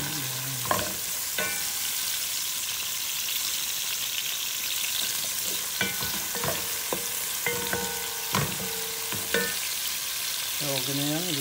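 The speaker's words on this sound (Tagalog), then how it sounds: "katasan natin bago yung ating tomato na dyan na onion para mabango siya" Tomato and onion sautéing in a pan under a constant close sizzle, broken by repeated sharp clinks and scrapes of a utensil stirring against the pan.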